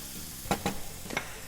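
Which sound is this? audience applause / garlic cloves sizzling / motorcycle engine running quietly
garlic cloves sizzling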